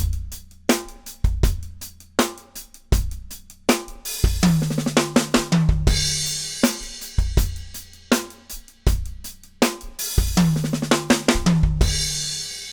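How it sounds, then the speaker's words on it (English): A drum kit plays a sixteenth-note groove with an open hi-hat on the last eighth note before a fill, punchy kick, snare and hat hits repeating in a steady pattern with busier fill passages. "open the hi-hat on that last 8th note that I played before the fill"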